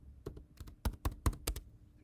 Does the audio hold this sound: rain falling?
no